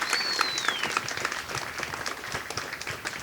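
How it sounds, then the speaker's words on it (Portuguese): Wedding guests at a ceremony break into dense, steady applause lasting about three seconds, with a thin whistle gliding downward at the very start. "Você pode aplaudir esse momento"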